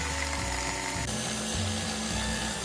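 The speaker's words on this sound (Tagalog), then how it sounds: "So i-whip natin ito full speed for 6 minutes." A kitchen mixer at full speed whips cream with coffee, giving a loud, steady motor whir with a faint rattling texture that runs unbroken throughout, with no talking.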